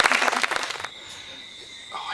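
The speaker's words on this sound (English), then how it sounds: "Let's hear a big applause for" An audience at a Saba talk applauds to welcome a shark researcher. A loud burst of clapping stops after under a second, leaving a quiet hum and a brief faint voice at the end.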